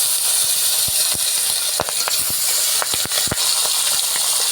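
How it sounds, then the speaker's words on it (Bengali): Pieces of magur catfish rubbed with salt and turmeric fry in hot oil, giving a loud, constant sizzle broken by sharp crackling pops. "এখন আমি মাছগুলো ভেজে নেব।"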